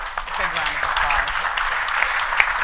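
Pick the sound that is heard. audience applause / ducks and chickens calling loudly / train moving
audience applause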